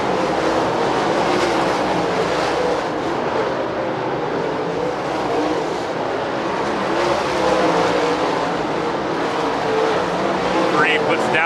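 Race cars roar around the Lernerville Speedway oval, a dense continuous engine drone from a pack of cars that stays loud throughout, with a race announcer calling the action over it.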